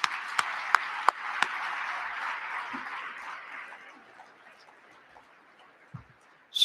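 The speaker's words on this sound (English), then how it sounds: "Let's give them a round of applause." Applause from a large audience at a West Point cadet event, a broad wash of clapping with a few sharp nearby claps that fades away over several seconds.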